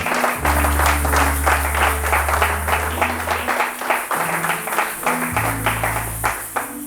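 A church congregation applauds steadily and loudly throughout, dense clapping blended with sustained low organ or keyboard tones underneath.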